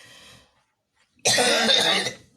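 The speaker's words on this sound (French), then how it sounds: "Pourquoi je tousse un peu?" A short burst of coughing, loud and close, lasting under a second after a moment of quiet.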